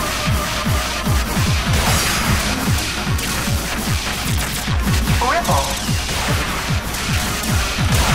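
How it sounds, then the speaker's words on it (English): Rapid barrage of missiles firing in the mecha action game Zone of the Enders 2nd Runner, a dense, continuous stream of sharp launches and blasts layered under loud game noise. "He's shooting a lot more missiles now"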